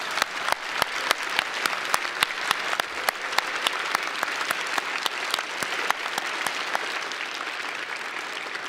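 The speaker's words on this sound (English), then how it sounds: "Graduates, would you please join me in a round of applause to thank our faculty and staff." Applause at an outdoor law school commencement ceremony, a scattered crowd clapping steadily with sharp individual claps standing out above a soft continuous patter for several seconds.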